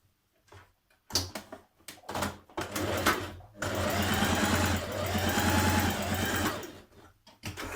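A sewing machine stitches the back pieces of an evening-wear garment, starting with short bursts and pauses, then running in a long continuous whir, loud and close, with no one talking.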